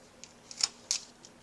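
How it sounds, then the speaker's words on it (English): A bamboo skewer is cut into a short 9mm chunk with a small cutting tool, heard as a few crisp snips and clicks close up, with two sharper snaps in quick succession against a quiet background. "cut a 9mm chunk of bamboo skewer"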